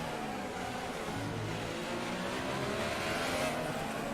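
An F1 race car engine from the F1 2018 video game, racing in the rain, holds a steady high-revving drone with little variation, heard continuously at moderate level.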